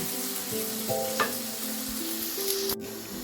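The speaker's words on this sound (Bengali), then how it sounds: "এই যে আমি মাঝে মধ্যে আমি দু এক মিনিট পর পর এটা নাড়া দিছি" Onions fry for beef bhuna in a pan, a steady close sizzle with occasional scraping stirs and a brief clank near the end, with no voices.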